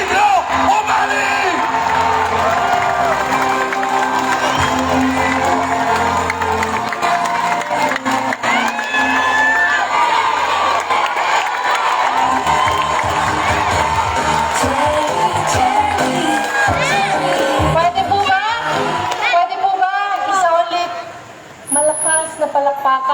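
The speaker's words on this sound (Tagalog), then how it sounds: "Ibigay ang pinamalakas na palakpakan na may kasamang sigawan sa ating Congresswoman, Cherry Domingo Umali" A large crowd at an evening political proclamation rally in Cabanatuan cheers, whoops and claps loudly and continuously, with an amplified voice over the noise. It fades to a brief lull near the end.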